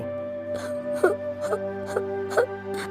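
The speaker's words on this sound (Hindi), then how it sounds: "उन लोगों को किसी औरत के रोने की आवाज आने लगी।" A woman sobs in short rhythmic bursts, about six whimpering cries in a few seconds over a steady low drone.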